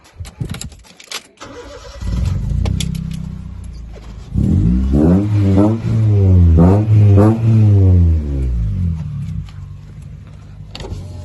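A car engine is cranked and catches, remote-key start on a used automatic car, then settles into a steady idle with a brief rev in the middle; close and loud, with light clicks and clatter before it starts.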